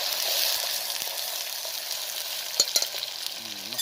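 Garlic and kantola vegetable sizzling in a pan, a steady close hiss of frying broken by a few sharp scraping stirs.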